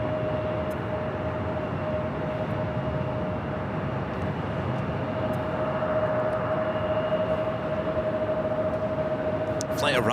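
A jet airliner arriving on runway 24 right at LAX, heard as a steady, continuous broadband engine roar with a faint sustained whine, fairly constant in level throughout and without talk.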